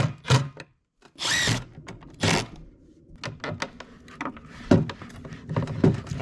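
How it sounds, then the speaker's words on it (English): Power drill driving screws into wood in a Volvo camper build: short whirring bursts of the motor, several in quick succession, followed by scattered clicks and knocks of handling nearby. "and just drill them in"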